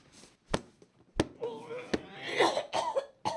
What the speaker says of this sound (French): Eh ben super, allez, toussez.